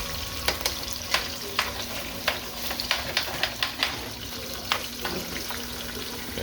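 Ackee frying in a cooking pot for a Jamaican dish, with a constant sizzle under repeated sharp scrapes and clanks of a spoon stirring against the pot.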